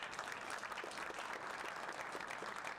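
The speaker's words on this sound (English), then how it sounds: "please thank my panel with a round of applause" Sustained applause from a conference panel audience, a dense steady patter of many hands clapping, moderately distant and even throughout.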